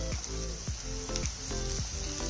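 Strips of capsicum hit frying onions in a pan, producing a steady, close sizzle with soft stirring scrapes repeating every half second or so.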